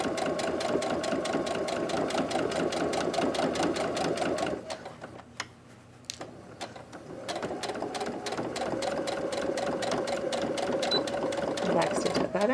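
A domestic sewing machine back-stitches through two layers of fabric for a zipper pouch, its close, fast steady stitching rhythm running throughout with a brief pause in the middle before resuming.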